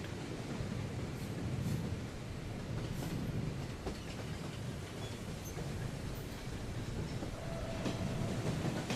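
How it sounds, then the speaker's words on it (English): Loud rolling rumble of the monster train in the video game Choo-Choo Charles, a continuous clattering mechanical drone with faint squeals, steady from start to finish with no speech. "There was a train, Choo Choo Charlie's, or Charlie or something like that."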